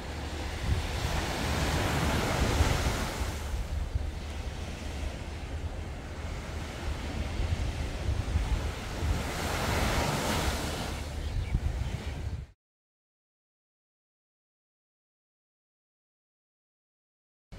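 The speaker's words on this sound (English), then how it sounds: "listening to the waves crash on the beach" Ocean waves roll in and crash on a beach in Ras Al Khaimah near sunset, rising in two big surges over steady wind-blown surf, then cutting to silence.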